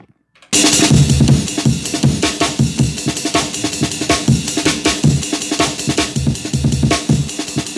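Punchy breakbeat drums hit in a steady rhythm, each hit a slightly different sampled drum sound, loud and continuous after a brief silent start.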